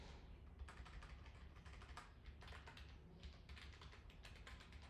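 Rapid, steady keystrokes on a computer keyboard as a password is typed, a continuous close clatter of clicks with a low background hum and no talking.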